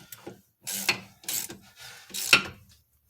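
Ratchet wrench clicking on the rear wheel hub bolts of a 2005 Dodge Stratus RT during a hub bearing replacement, three close bursts of rapid ratcheting separated by short pauses.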